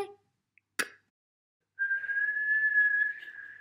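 A child tries to whistle, letting out a brief puff of breath and a short click before a single sustained, fairly steady whistled tone held for almost two seconds, heard alone without talk.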